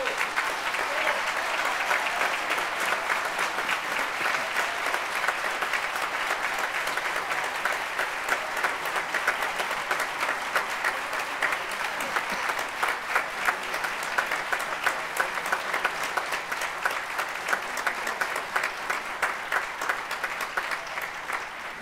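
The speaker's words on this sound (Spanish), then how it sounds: "Brindémosle un fuerte aplauso a todos ellos" A large audience applauds graduates at a ceremony, sustained even clapping from a big crowd in a hall that holds steady for over twenty seconds and tapers slightly at the end.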